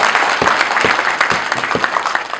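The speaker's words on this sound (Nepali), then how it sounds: "जोरदार ताली" Loud, dense clapping from a convention audience in Nepal, a brisk crackling burst that fills the whole moment with no speech over it.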